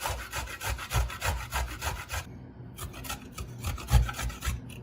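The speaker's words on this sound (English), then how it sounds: "once your ginger is all cleaned up, you can start grating it" Fresh ginger is rubbed against a grater in quick rhythmic rasping strokes, close and clear, with a short pause midway before the scraping resumes.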